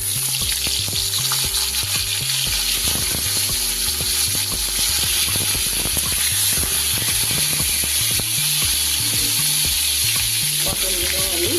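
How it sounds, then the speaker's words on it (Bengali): Pointed gourd pieces fry in hot oil left from frying potatoes, a loud, continuous sizzle close by with rhythmic scraping and clattering from stirring, and no speech. "এবার এই তেলেই আমি দিয়ে দেব পটলগুলো।"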